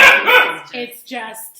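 A dog barks loudly and close by in a quick burst of several barks, with softer yips trailing off as a person speaks over it.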